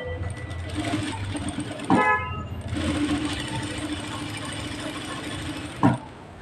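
A sewing machine stitches lace onto the neck of a blouse with a fast, steady mechanical whir close by. Two short clunks break the run, one of them during a brief pause.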